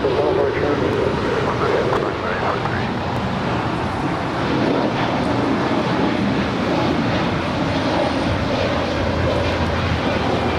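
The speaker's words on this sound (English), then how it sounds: "3843 departing to Oakland, California. It's an A320 Neo." A Spirit Airlines Airbus A320neo departing LAX, its engines a loud, steady broadband roar with wind buffeting the microphone, continuous throughout the stretch.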